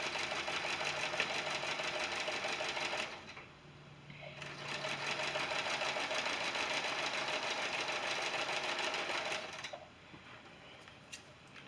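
A sewing machine chain-pieces quilt blocks, running in fast, steady whirring bursts that pause briefly twice as fabric is fed through.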